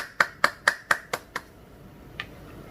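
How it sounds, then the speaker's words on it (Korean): Several crisp hand claps close by: six evenly spaced in a quick run, then a single clap after a short pause, with no voices. "대단한 팬들께 박수 보냅니다"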